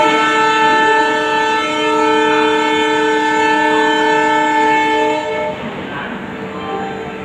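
A nearby train blares its horn in a loud, sustained blast over the rumble of passing rail cars, easing slightly toward the end.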